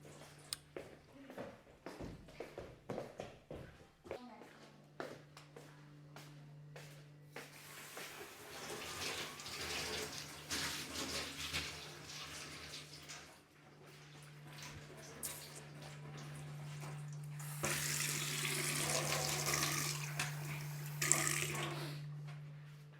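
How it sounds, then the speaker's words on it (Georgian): Cold water runs from a tap, starting after a few faint knocks and growing into a louder, steady gushing stream near the end. "ცივი წყალი"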